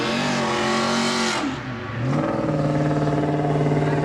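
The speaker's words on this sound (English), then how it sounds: "Nice burnout there from the Camaro as he lines up on the inside of Oliveira and his Passat." A 2000 Chevy Camaro revs hard in a burnout at Seekonk Speedway during spectator drags, with a loud sustained engine roar that dips briefly, then climbs again to a steady high pitch.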